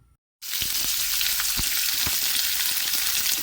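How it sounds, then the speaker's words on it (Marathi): Onion with bay leaf and garam masala sizzles in mustard oil, starting abruptly after a brief silence, then a loud, steady close frying hiss with a few soft stirring knocks. "तेजपत्ता आणि थोडंसं गरम मसाला टाकून मी हे चांगलं भाजून घेते कांदा"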